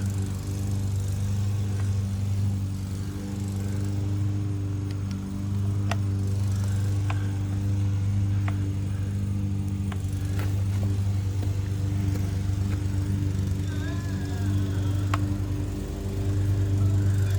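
A neighbor's lawn mower drones steadily from a short distance, its low engine hum continuous, with faint clicks and small noises over it and no one talking.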